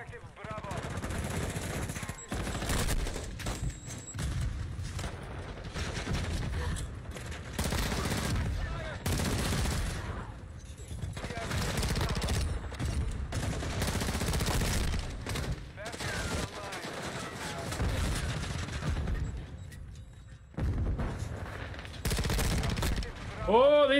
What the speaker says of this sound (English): This gun is pretty darn lethal.